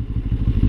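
Benelli TRK 702 2024 motorcycle engine running close, a loud, deep, steady pulsing throb, with no one talking.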